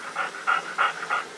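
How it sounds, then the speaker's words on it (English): A dog in a bookstore pants steadily, four rhythmic breathy pulses close to the listener, fairly loud against a quiet room. "They've got a dog."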